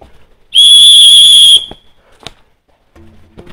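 A loud, shrill whistle blast sounds alone for about a second, followed by a few faint knocks and rustles in an outdoor game setting.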